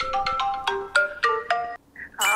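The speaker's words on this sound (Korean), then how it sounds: "평온한 아침에 정적을 깨는 전화 한 통." A telephone ringtone rings loudly and close in a quiet morning home, a bright melodic electronic jingle of repeated tones with a brief pause before it starts again.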